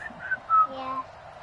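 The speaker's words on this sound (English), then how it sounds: "Like to whistle a few tunes?" A person whistles a few short, wavering melodic notes during a Friday night football broadcast, faint and brief over a low background murmur.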